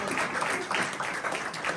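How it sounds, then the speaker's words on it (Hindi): A church congregation at a sermon claps together in a short burst of applause, fairly loud and rhythmic, with clapping swells about every half second. "आस्तर के लिए जोरदार तालियां दें"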